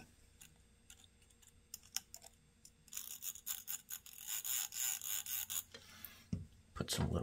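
Game Boy cartridge contacts scrubbed with alcohol: quiet scattered rasps at first, then a sustained run of loud, rhythmic close-up brushing strokes, ending in a few scraping rubs.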